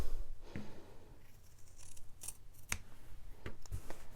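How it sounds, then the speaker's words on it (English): Sharp scissors snipping through quilt fabric while trimming a finished quilt top, a few distinct crisp cuts spaced out over a quiet background. "to cut the rest of this, I'm just going to use scissors"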